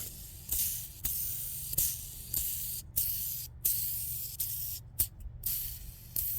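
A worn Bones Ceramic Reds skateboard bearing with free play spins with a hissing whir, regular clicks and faint rattles repeating about once a second, close up and fairly quiet.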